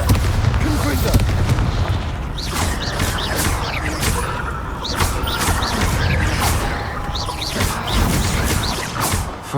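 Spell blasts from Bombarda and Confringo in the video game Hogwarts Legacy go off repeatedly as dense, booming explosions with crackling debris, each burst overlapping the next over a heavy, continuous rumble.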